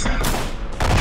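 Rapid automatic gunfire from a machine gun in the Roblox shooter Shell Shock, a dense, loud burst of overlapping shots that runs continuously for about a second and swells again at the end.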